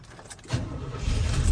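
A cold-started 1985 Chevrolet K10 Scottsdale pickup idles close by, a steady low rumble that swells and grows louder over the short stretch after some faint jingling at the start.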